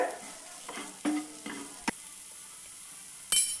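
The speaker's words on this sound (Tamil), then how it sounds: "மல்லித்தூள் மிளகுத்தூள் எல்லாம் சேர்த்து நல்லா வதக்கி விடுங்க" Spices such as coriander and pepper powder sautéing in a pan on a low flame, a soft sizzle with several scraping stir strokes and a utensil tap near the end, close up, with no talk.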